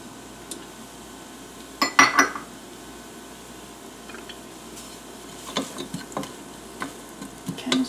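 Chopped onion and garlic cooking in a pan for mushroom risotto: a soft sizzle underlies sharp clinks of a utensil against cookware, in scattered bursts near the start and end.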